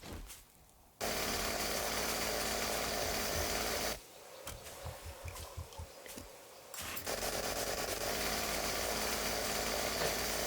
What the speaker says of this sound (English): Chainsaw, anyone?